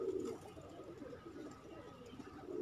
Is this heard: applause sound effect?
no